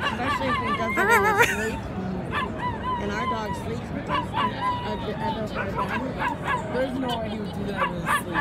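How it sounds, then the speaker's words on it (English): A dog whimpers and yips in high, wavering cries, with short barks mixed in, over a background murmur of people talking at a White Sox baseball game. "That dog is crying again."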